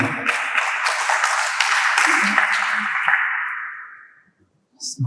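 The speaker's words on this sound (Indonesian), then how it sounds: "Tepuk tangan dong." An audience claps in an echoing hall at an SBC class event in Lumajang, with steady, fairly loud applause that fades out after about four seconds, followed by a brief voice.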